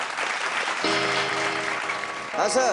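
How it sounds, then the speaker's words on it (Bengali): A studio audience on a Bengali family game show bursts into loud, sustained clapping, with a brief spoken reply at the start and a voice rising over it near the end. "জোরে হাততালি একটা।"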